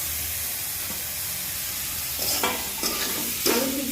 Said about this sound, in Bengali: আলু সিদ্ধটা মশলার সাথে একটু হালকা করে ভেজে নেব